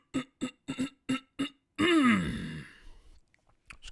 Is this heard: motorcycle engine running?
no